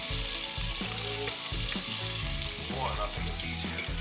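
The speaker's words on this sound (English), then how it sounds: "My husband is frying up some oysters." Loud, continuous sizzling and crackling of oysters frying in hot oil, close up, with small pops throughout.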